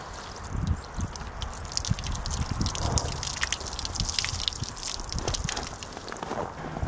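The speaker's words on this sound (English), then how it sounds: "Let me just pour a little bit of water on here and show you what happens." Water splashes and trickles onto a car in winter, with scattered drips and a steady wet wash throughout, fairly close.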